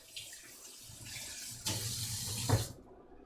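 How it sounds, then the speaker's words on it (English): Hands are washed under a running tap at a home sink, water splashing steadily and close for a few seconds before it is turned off and stops abruptly. "Just washing up."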